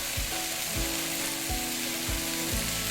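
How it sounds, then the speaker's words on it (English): Egg frying in a pan beside vegetables for pad Thai, stirred with a chopstick: a steady sizzle with a regular series of about five ratcheting scrapes and taps; no talking. "Crack 1 egg and quickly stir it with the chopstick."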